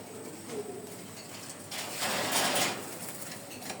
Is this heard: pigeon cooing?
yes